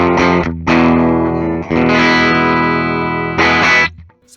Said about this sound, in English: first I wasn't really liking this bridge pickup for cleans, because it sounded like this, all on 10s